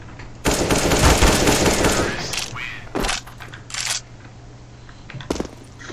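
A burst of rapid automatic AK rifle fire in Counter-Strike for over a second, then a few shorter separate bursts and single shots trailing off.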